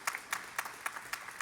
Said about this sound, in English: Nasim Resvanpour, so an applause for her